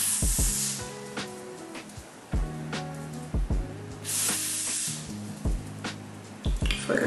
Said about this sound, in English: I feel like I just sprayed it too much into the hair